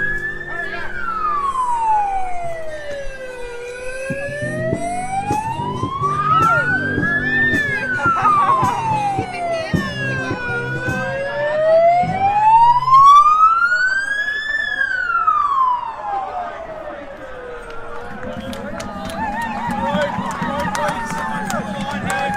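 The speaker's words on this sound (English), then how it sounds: "There's a siren." A wailing siren sweeps slowly up and down, loud and close, over traffic noise and some background voices.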